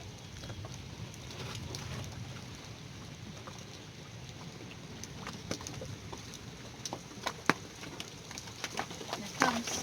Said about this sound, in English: I think it's just gonna rain here.